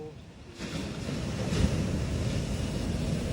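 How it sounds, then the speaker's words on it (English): Ocean waves wash and surge steadily where the sea meets a canal, a dense, continuous rush swelling after the first half second, with wind buffeting the microphone and no talk. "look at the waves up front"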